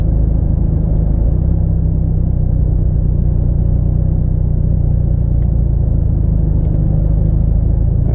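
A car cruises down Las Vegas Boulevard on the Strip, its steady low engine and road rumble loud and continuous throughout, with no voices.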